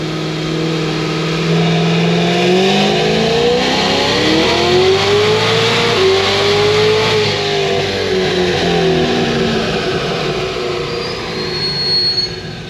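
An 1150 hp Cadillac CTS-V engine revs up to about 7,000 RPM, a loud, sustained rising engine whine that climbs, peaks and eases off, heard close and alone.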